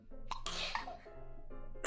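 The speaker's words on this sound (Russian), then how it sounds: "это реально подборка того, как витюберы чихают?" A single sharp sneeze from a VTuber, bursting loud and close at the very end after quiet breathy vocal sounds.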